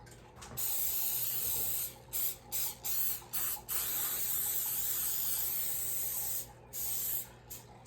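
Close aerosol cooking spray hisses onto a sheet cake baking pan in several bursts, a long one followed by short sputtering spurts with brief pauses between.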